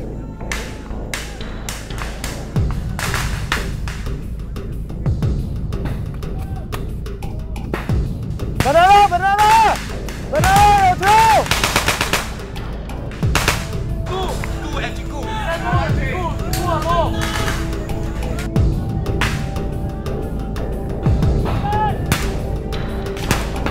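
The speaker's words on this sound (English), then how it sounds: "Continue firing!" Gunfire during a military training exercise comes as sharp, scattered reports and thuds, some in quick bursts, under frequent shouted voices and commands across the whole stretch.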